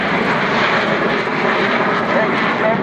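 Loud, steady roar of an Avro Vulcan XH558 four-engine jet bomber passing close by with air brakes out at an air show, engines filling the whole span with broadband rumble.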